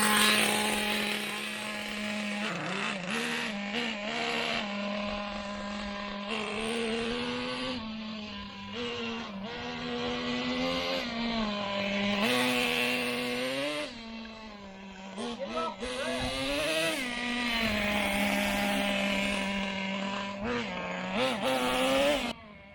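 A Traxxas T-Maxx 2.5 nitro RC truck runs after repair, its small two-stroke engine buzzing and revving up and down in high whining sweeps, close and loud, with people talking at times over it.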